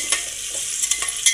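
Onions and curry leaves sauté in a pan with a soft, even sizzle and a few sharp stirring clicks, close up and without talk.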